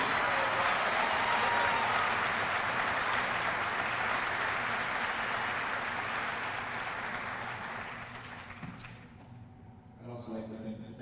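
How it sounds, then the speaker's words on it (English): Audience applause for the drill instructors of Bravo Company at a Marine recruit graduation, a broad, steady wash of many hands clapping in a large crowd, fading out toward the end. "please join me in a well-deserved round of applause for the drill instructors of Bravo"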